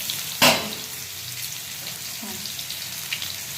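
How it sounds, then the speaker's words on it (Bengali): Potatoes hit hot oil in a pan with a sharp burst of sizzling, then keep frying with a steady crackle and occasional stirring bursts. "আলুগুলোকে আমি এবার একটু ভাজা ভাজা করে নেব।"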